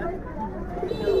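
Pigeons cooing softly at an outdoor pigeon market, low murmuring coos running under steady crowd chatter and nearby talk.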